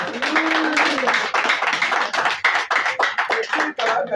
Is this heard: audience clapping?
yes